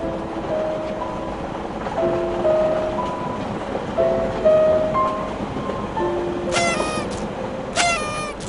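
A moving train rumbles steadily with a sustained tonal whine, and a quick run of sharp metallic clicks appears near the end.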